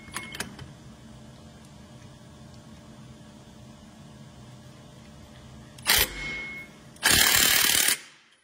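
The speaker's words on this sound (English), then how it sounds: "he's going to impact that nut on there" An impact wrench tightens a nut on a Honda GX160 quarter midget engine, with two loud close rattling bursts near the end, a short one and then a longer one of about a second, after quiet shop background.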